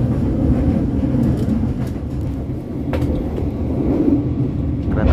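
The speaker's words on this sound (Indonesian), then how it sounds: "Kereta api Cikuray melintas langsung tempatnya teh." The Cikuray train crosses the Cisomang railway bridge, a steady close rumble of wheels and carriages rolling past with faint clanks, continuous for the whole stretch with no talking.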